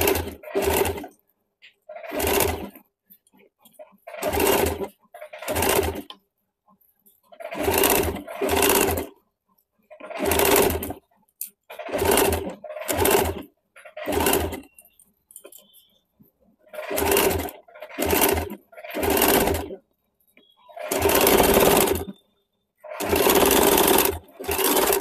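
A sewing machine runs close by in many short, even bursts of rapid whirring with brief gaps between them, stitching the neckline of a suit front panel.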